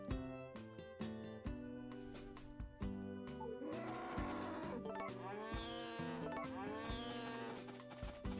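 Cows moo repeatedly in the Harvest Moon A Wonderful Life Special Edition farm game, loud long bellows layered over steady game music, with no voices.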